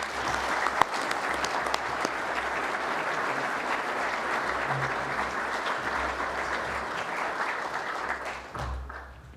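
Audience members at a maritime security event applaud to welcome a speaker, sustained even clapping filling the room for about nine seconds before tapering off at the end.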